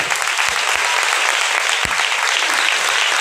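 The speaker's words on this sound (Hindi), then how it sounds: "जोरदार ताली बजा के।" Church congregation applauding loudly during a sermon, a continuous roar of dense clapping at full strength with a few low thumps underneath.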